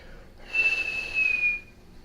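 A single sustained whistled note from a person, close and clear, held for about a second with a slight wavering dip before fading out against quiet room tone.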